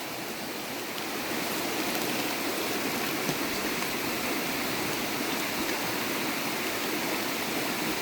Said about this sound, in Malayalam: ഇതാണ് ഈ സ്ഥലത്തിൻ്റെ സൈഡിൽ കൂടെ ഒഴിയുന്ന തോട്